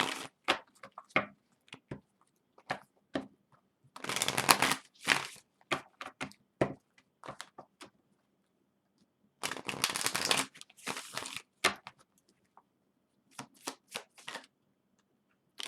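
A tarot deck shuffled by hand, with bursts of riffling and rapid card slaps between scattered single taps and pauses, close and clear with no talk.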